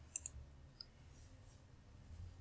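Computer mouse clicks while working in engineering software, two quick faint clicks near the start and a softer one after, in a quiet room.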